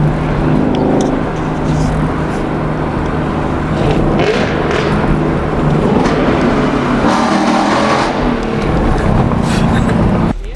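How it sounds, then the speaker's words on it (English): A Ford Shelby GT500 drives loudly on city streets, its engine a continuous heavy roar with revving surges, close and dominant for the whole stretch. "Damn, this car is loud."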